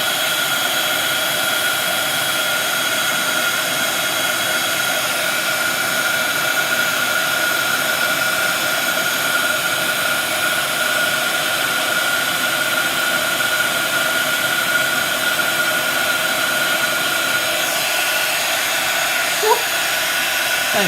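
A heat tool blows hot air from underneath a card to melt embossing powder, a loud, steady fan-like whoosh that holds unbroken throughout, close up and with no talking.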